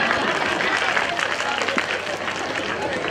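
A school annual day audience claps in a dense, steady wash that holds evenly across the whole stretch, with crowd noise mixed in.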